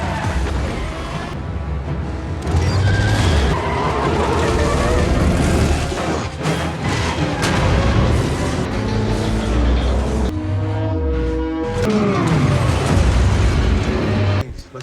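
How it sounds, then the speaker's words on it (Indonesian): A heavy truck is flipped over during a car chase in the film Fast & Furious 9, with a loud, dense roar of engines and crashing impacts filling the scene throughout, and sharp bangs near the end. "Dengan manuver kerjasama Dom dan Jacob, mereka akhirnya berhasil menjungkir balikan truk Otto."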